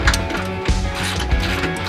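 Ratchet strap being tightened on a Baja build, three regular clicking ratchet strokes about two-thirds of a second apart, close and fairly clear.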